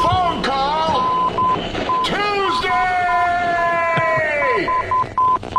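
A comedic radio show sweeper for a segment called Faraway Phone Call Tuesday, built from loud phone dialing tones, rising and falling whooshes and sustained synthetic tones, played upfront with no voices heard.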